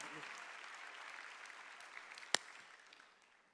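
A congregation at a Sunday church service claps together in a dense, moderately distant burst that gradually thins and fades away.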